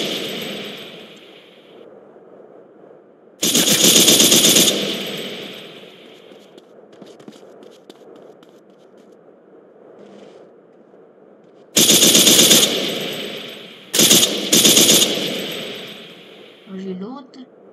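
Bursts of automatic gunfire in a shooter video game, three loud rapid-fire volleys separated by quieter stretches, with a player talking faintly under the game audio in between.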